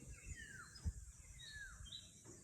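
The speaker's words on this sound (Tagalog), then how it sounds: "Puro huni ng ibon ang maririnig." Several birds sing in thin, rising whistles and chirps in green mountain farmland, faint against a soft background hiss, with a low thump partway through.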